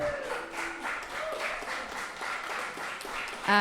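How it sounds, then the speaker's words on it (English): An audience at a live podcast event in San Antonio claps steadily, a faint, even patter of applause lasting several seconds with a brief voice at the very end. "Can we get a round of applause?"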